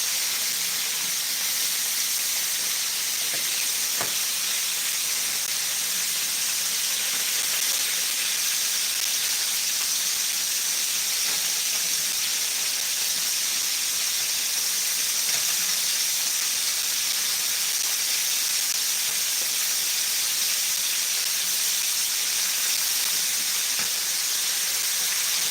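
Loud, steady hissing of potato water steaming and sizzling in a hot frying pan on a stove, continuous throughout with faint clicks and crackles.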